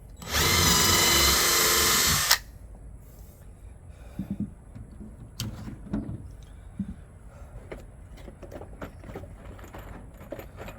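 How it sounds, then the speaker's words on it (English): A power drill pre-drills a screw hole in a wooden bird house with one loud, high whirring burst of about two seconds, then stops, followed by quiet clicks and handling noises. "Let's go ahead and pre-drill our holes."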